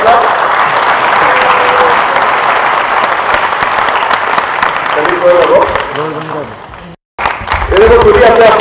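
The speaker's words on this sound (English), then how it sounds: "Let's clap." Audience applause at an award ceremony: dense, steady clapping fills the first several seconds, then thins as voices talk over it, with a brief dropout before the sound returns.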